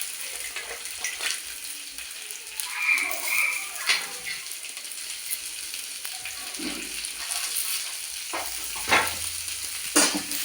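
Spices fry in a pan for a fish curry, producing a moderate continuous sizzle with occasional stirring clicks and bubbling pops, nearby and without speech.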